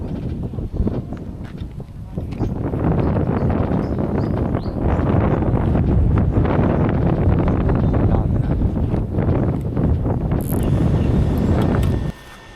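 Loud, continuous wind buffeting the microphone outdoors at a roadside spot while fishing for snakehead in winter, a steady rumbling roar that cuts off abruptly near the end, with someone speaking intermittently over it.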